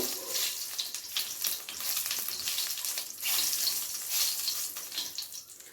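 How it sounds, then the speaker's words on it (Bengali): Dried red chillies and whole cumin seeds fry in hot oil, giving a steady, close sizzle and crackle that lasts throughout, with faint stirring scrapes mixed in and no talking. "এবারে ফোড়নটাকে একটু ভালো করে নেড়ে চেড়ে ভেজে নেব।"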